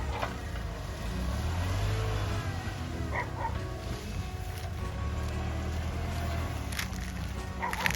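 Kubota 45 horsepower tractor fitted with a log clamp attachment, its diesel engine running as a steady low rumble with occasional clanks and knocks over outdoor background noise.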